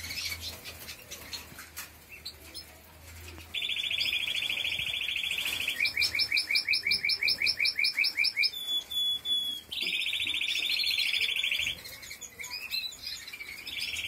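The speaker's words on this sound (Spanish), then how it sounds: "Qué buen cascabel tiene ese pájaro." Several caged pet birds, including green ones, chirp and sing indoors with bright, repeated trills and sustained high whistles. The bursts come in clear phrases close to the microphone over a quiet background.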